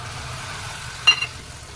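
Tomato puree sautés in a pan as saag chicken is cooked, giving a soft, steady sizzle with one brief louder spatter partway through.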